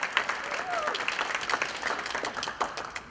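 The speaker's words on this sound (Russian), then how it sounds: "Вот ваши аплодисменты." Audience applause fills the space, a dense patter of many hands clapping at moderate volume, steady throughout.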